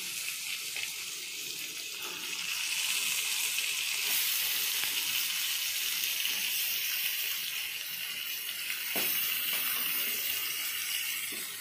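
Chicken goes into a pan of ginger garlic paste for a Hyderabadi-style chicken curry and sets off a loud, steady hiss of sizzling that swells and holds, with a few faint clinks.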